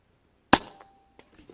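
JTS Airacuda Max .30 cal air rifle shot striking a steel target on a range: one sharp crack with a short ringing tail, followed by faint small clicks and handling noises.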